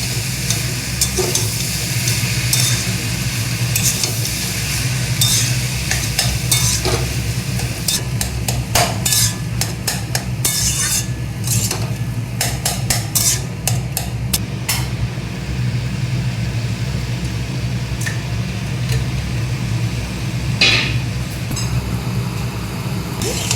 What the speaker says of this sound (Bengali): এবার আমি সিদ্ধ করা এই যে মোচাটা দিয়ে দেবো, দিয়ে একটু ভালো করে কষতে হবে খানিক